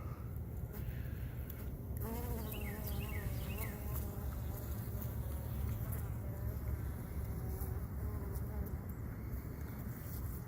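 Honey bees droning steadily at a hive during a winter check, a continuous close buzz with occasional rising tones from individual bees flying near, running throughout at even loudness.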